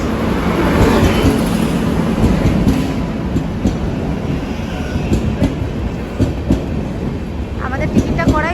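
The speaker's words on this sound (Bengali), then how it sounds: "আমাদের কলকাতা ফেরার ট্রেন কিন্তু এখন ঢুকছে" A train pulls into a railway station bound for Kolkata, its loud continuous rumble and clattering wheels filling the scene, with faint voices and brief squeals near the end.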